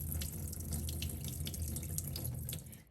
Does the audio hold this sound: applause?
no